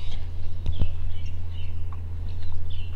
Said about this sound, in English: Beautiful morning just hearing the birds chirp.